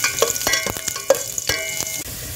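Ginger pieces frying in hot cooking oil for chicken tinola, a steady close sizzle broken by repeated clinks and scrapes of a utensil stirring the pan.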